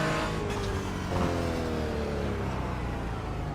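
Another class of race car in a Nurburgring 24-hour racing game comes closer with a loud, steady engine drone whose pitch slowly shifts, heard alone without voices.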